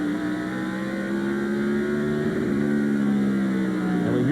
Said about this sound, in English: we hear the engine misfiring right at the end of the straightaway